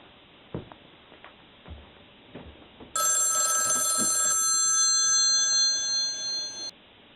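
Telephone ringing in a children's TV show setting, a loud electronic trilling ring lasting several seconds that follows a few soft knocks and thuds, then cuts off abruptly.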